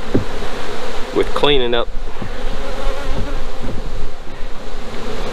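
Honey bees buzz steadily around hives on a farm, a dense close drone throughout with a voice speaking briefly over it.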